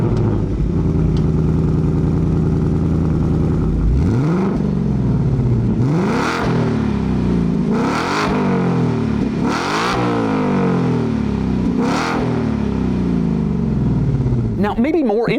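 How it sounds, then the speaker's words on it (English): A 2024 Ford Mustang GT's V8 fires up and is blipped in several sharp revs, each rising and falling back toward idle, loud and close. "Here is a startup and rev from the new Mustang GT."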